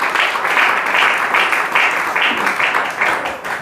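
A church congregation breaks into sustained applause during a sermon, a dense, loud wash of many hands clapping in pulsing waves throughout.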